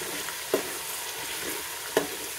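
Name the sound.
frying village garam masala in oil for fish curry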